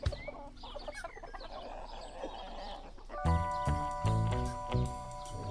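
Chickens cluck and squawk in a loose flurry of calls, with louder bursts of rooster-like clucking near the end over a busy farmyard background.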